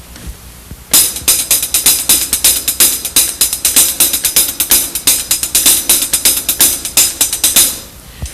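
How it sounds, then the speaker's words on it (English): A paradiddle sticking pattern is played on a hi-hat, a fast, even stream of crisp metallic ticks with regular accents, loud and close, stopping cleanly at the end. "I'll play it on the hi-hat."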